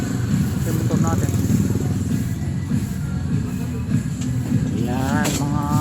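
A motorcycle engine running close by on a city street at night, a loud steady rumble with people talking over it.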